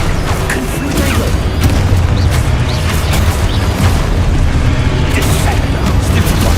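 A Confluego spell goes off in Hogwarts Legacy amid rapid combat, its booming fiery blast merging with a continuous roar of explosions and magical impacts, loud and dense throughout.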